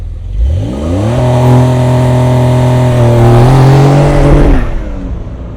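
A Porsche 911 launching under launch control with PSM on: the engine roars loud and close, pitch climbing steadily through a sustained hard acceleration, then falls away after about four and a half seconds.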